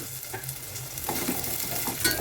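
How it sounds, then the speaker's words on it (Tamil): Cucumber being sautéed in hot oil, a steady close sizzle broken by a few scraping stirs of a spatula against the pan. "வெள்ளாரி போட்டு நல்லா வதக்கிட்டு"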